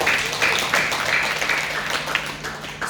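An audience claps together through the whole stretch, a dense even patter of many hands at moderate loudness that swells and eases slightly without stopping.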